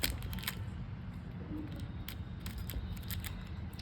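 A strip being cut while a mosquito coil is modified with chilli, heard as a few faint, sharp scissor-like snips over a steady background hiss.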